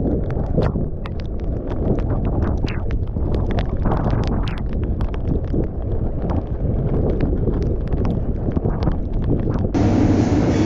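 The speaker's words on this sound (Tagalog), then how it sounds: "mahangin na talaga" Heavy wind from a typhoon in Japan roars against the microphone in a steady, blustery rumble with scattered rattling clicks, no voices heard.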